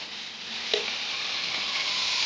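Fiddlehead ferns stirred with pork in a pan: a steady sizzling hiss of frying, with one brief scrape of the stirring utensil against the pan.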